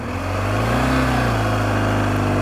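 An adventure motorcycle engine revs during a hill start, a steady mid-pitched drone that rises slightly in pitch and holds, loud and close, with no talking.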